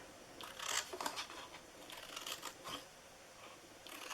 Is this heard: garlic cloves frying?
no